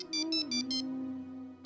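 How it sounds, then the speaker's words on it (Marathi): A mobile phone rings for an incoming call with four quick pulses of bright electronic tone over a steady, sustained note, moderately quiet and alone. "हा बघ, परत तिचाच फोन आला."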